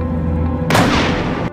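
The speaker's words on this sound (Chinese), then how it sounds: "随着一声巨响，搅拌车后面的钢门喷出大量烟尘" A 1.5-pound high explosive charge detonates inside a cement mixer truck drum, a sudden loud close boom that bursts in after a low rumble and roars for nearly a second before cutting off.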